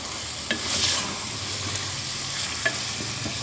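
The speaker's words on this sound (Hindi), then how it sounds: "अब इसको अच्छे से मिक्स कर लें" A spoon stirs fried potato and brinjal with tamarind pulp in a pan over steady sizzling, with a couple of soft scrapes against the pan, close and fairly loud, no voices.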